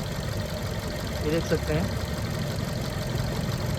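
A Suzuki Dzire petrol-CNG engine idles with a cylinder 2 misfire, giving a steady low rumble with uneven vibration throughout, while someone speaks briefly over it.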